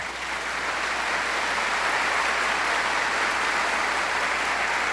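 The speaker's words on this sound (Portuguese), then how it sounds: "Pode aplaudir a palavra." Congregation applauding after the Gospel reading at a Catholic Mass, a continuous, dense wash of clapping from a large crowd that holds steady and loud throughout.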